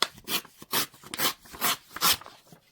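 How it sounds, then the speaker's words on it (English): Paper being ripped down its edge while making a simple handmade envelope, heard as several separate rasping tears in a steady rhythm, close and fairly loud, with no talking. "I am going to actually just rip down the edge of this"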